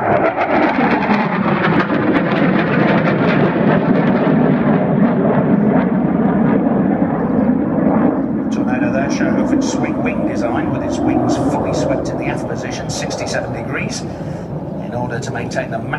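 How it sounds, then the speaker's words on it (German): Two Tornado IDS swing-wing strike jets, wings swept fully back, make a fast low pass at an airshow. The engines give a loud sustained roar that fades slightly toward the end, with crowd noise and announcer speech over it. "the two IDS Interdictor Strike Tornadoes are now running in to strike the target"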